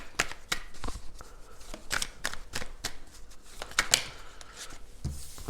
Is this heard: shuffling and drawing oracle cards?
yes